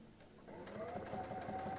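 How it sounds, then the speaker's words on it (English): A sewing machine stitching fabric with a steady, quiet mechanical whir that speeds up after a soft start and continues evenly to the end. "you can just start sewing"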